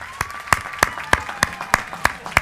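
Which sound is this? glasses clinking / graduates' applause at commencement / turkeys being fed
graduates' applause at commencement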